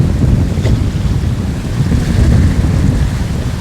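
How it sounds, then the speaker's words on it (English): Strong wind roaring steadily across the microphone aboard a sailboat running downwind in 30 knots of breeze under a big headsail, making about 9 knots, with water rushing along the hull beneath the constant buffeting. "So we have 30 knots of wind from behind, and we've been hitting boat speeds of 9 knots."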